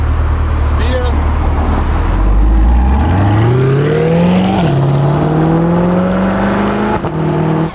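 A Ford Mustang GT500 engine, a base model with the handling pack, revs up loudly nearby with a rising, sustained pitch that climbs, dips briefly, then holds high; muffled voices sit beneath it.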